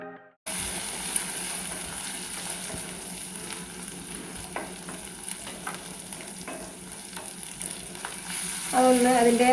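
Ginger garlic paste fries in a pan with a steady, loud sizzle, broken by a few scraping stirs, and a sharper burst of frying near the end.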